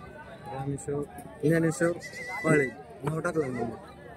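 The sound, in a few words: goats bleating at a goat and sheep market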